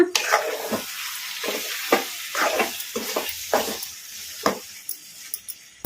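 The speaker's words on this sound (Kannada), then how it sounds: "ಇದನ್ನೆಲ್ಲ ಮೀಡಿಯಮ್ ಫ್ಲೇಮಲ್ಲಿ ಫ್ರೈ ಮಾಡ್ಕೋಬೇಕು ಈಗ ಕಲಿಸ್ಕೊಂಬಿಡೋಣ" Chicken frying with masala powder in a pan over a medium flame, stirred in bursts: scraping strokes roughly every half second over a quieter crackle, close and fairly loud, with no voices.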